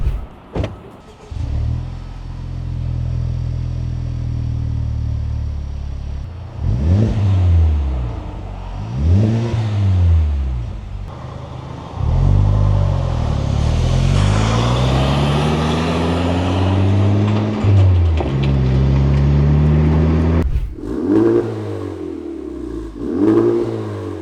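Honda Civic Type R FK8 fitted with an AWE Touring Edition exhaust, idling then revved repeatedly up and down, several loud rising and falling sweeps close by, with a longer sustained rev in the middle.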